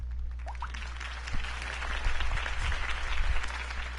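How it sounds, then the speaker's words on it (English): Campaign rally crowd applauding in the Batman Telltale video game, a broad wash of clapping that swells midway and holds steady over a low constant hum, with a couple of faint brief tones early on. "If only Mr. Wayne, my campaign's largest backer, could have heard that applause"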